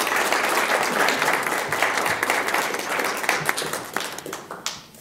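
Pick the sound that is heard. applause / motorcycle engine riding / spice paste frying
applause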